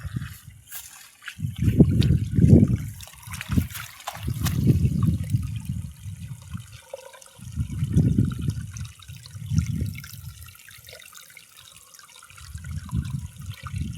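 Water gushing from a borewell with no electric pump, coming in strong repeated surges separated by short lulls, close and fairly loud with a faint trickle between bursts.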